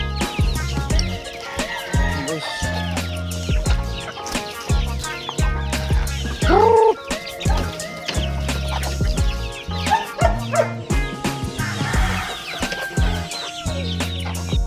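Chicks and chickens on a game farm cluck and peep close by in a busy, overlapping chorus, with scattered louder squawks and calls throughout and no talk.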